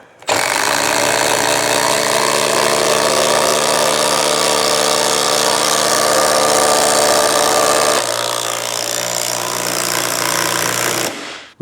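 A Milwaukee brushless drill drives structural screws into wood with a loud, steady motor whine and grinding that runs unbroken for about ten seconds. The pitch drops slightly near the end, then the drill stops abruptly.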